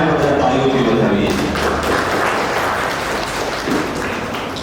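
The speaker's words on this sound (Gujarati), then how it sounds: "સર્વને આપણે તાળીઓથી વધાવીએ" An audience at a pre-school graduation convocation gives loud applause, a dense burst of clapping that fades a little over about five seconds.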